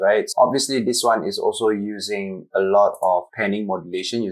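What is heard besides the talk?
None of the usual background noises is heard.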